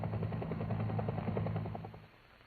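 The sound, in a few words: Bell UH-1 Air Force helicopter flying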